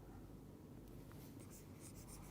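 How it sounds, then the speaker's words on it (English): A pen writes dice outcomes by hand in a lecture setting, faint scratchy strokes under a steady hiss of background noise. "I am going to write only the outcomes here."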